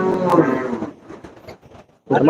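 Cattle lowing at the Melapalayam cattle market, a couple of loud, close moos at the start and again at the end, with crowd noise and some talk from the market in between.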